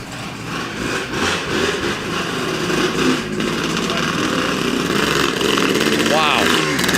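An MX360 dirt bike engine buzzes and revs loudly nearby, a continuous high-pitched drone that climbs in pitch near the end, with people talking in the background.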